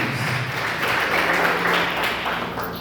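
A church congregation applauds during a Portuguese-language service, a full, continuous roar of many hands clapping at once that stays loud and even for the whole stretch.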